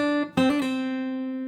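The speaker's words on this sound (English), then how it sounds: "Play this note first and then do the hammer on pull off" A fingerstyle guitar lets one note ring, then a fresh attack with a quick hammer-on and pull-off follows, the last note sustaining cleanly and close.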